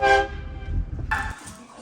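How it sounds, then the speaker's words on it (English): A vehicle horn gives a short toot, then a second longer honk follows, both loud and close with rumbling engine noise between. "Said honk the horn."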